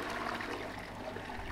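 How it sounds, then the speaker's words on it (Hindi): A toilet flushing in the horror video game Rinse and Repeat, a steady rushing water sound filling the whole short moment with no one talking. "ओके, खाली फ्लश चला दिया हमने।"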